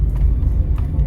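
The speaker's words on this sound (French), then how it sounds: "Je sais pas si vous allez bien m'entendre à cause du bruit de la voiture" Steady low engine drone and road rumble inside a moving car, a continuous close hum with no talking.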